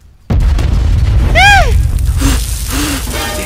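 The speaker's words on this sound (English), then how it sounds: "a volcano erupted out of nowhere" A volcano in a video game erupts with a sudden loud boom, then a sustained heavy rumble. A brief sweeping whoop-like tone and a few short vocal sounds rise over it.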